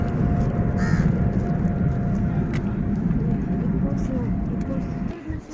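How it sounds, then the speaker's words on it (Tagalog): Crows caw in a village, a few short calls standing out briefly over a constant low outdoor rumble like distant traffic. "Ay, ang daming uwak, guys."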